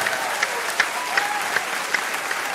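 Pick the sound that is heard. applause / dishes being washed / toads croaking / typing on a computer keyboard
applause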